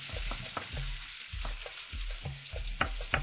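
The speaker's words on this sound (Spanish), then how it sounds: "Iremos moviendo para que se cuaje nuestro huevo." Beaten eggs sizzle in a hot pan while a utensil stirs and scrapes in repeated rhythmic strokes, with crackling frying throughout and sharper clicks near the end.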